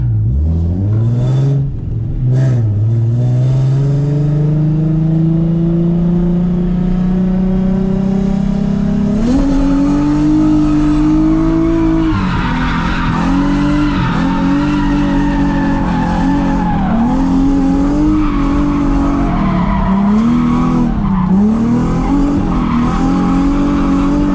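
Drift car pushed around a track lap, its engine revving hard and climbing steadily in pitch while tires squeal and skid continuously, loud and close throughout with no talking.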